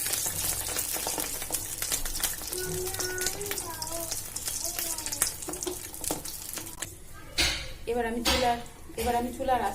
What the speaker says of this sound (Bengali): তেলটা গরম হয়ে গেলে এবার আমি ডিমটা এর মধ্যে দিয়ে দিব।